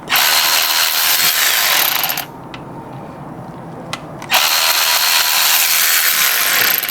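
An electric socket wrench on a Toyota Corolla oil drain bolt whirs loudly for about two seconds, pauses with a few faint clicks, then buzzes again at close range.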